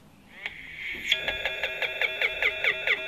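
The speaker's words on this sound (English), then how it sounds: "Oh, the awesome alarm music" A short electronic alarm melody plays inside a Subaru car, a faint tone rising into a quick steady string of repeated chirping beeps.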